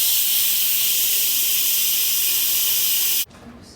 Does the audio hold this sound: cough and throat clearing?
no